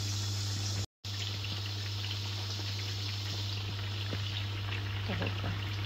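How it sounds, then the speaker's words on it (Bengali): Hot oil sizzles steadily in a pan while food fries, a dense, continuous crackling hiss with small pops, loud and close, with no one speaking. "তেলের সাউন্ডটা আমি সব সময় করি"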